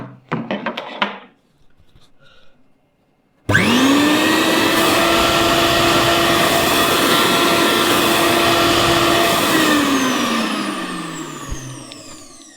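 A Bosch TrueMixx Pro 1000 W mixer grinder bursts into a loud, close, high-pitched motor whine after a few soft handling rustles, holds a steady roar for several seconds, then spins down as it is switched off.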